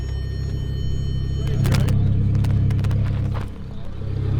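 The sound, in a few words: Lamborghini Murcielago LP640 and twin turbo Huracan high speed fly-by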